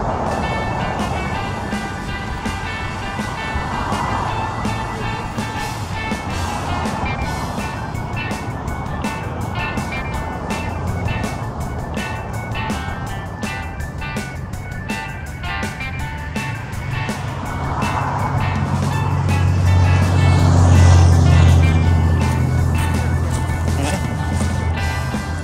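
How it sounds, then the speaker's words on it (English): Continuous hum of road traffic on historic Route 66 in New Mexico, vehicles passing, a heavier one swelling louder near the end, plus a faint tinkling melody in the background. "right there, you can hear the traffic"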